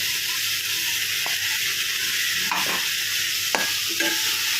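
Steady scraping and stirring of vegetables in a frying pan, with a few sharp utensil knocks over a soft, continuous sizzle.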